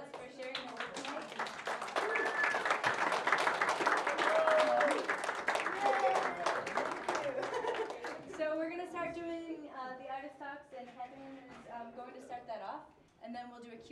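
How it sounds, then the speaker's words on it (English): A gallery audience at a Pecha Kucha artists' showcase claps for the artists, a loud, dense burst of applause that swells and then thins out, with voices and laughter rising as it fades. "let's give them a round of applause for sharing their work tonight"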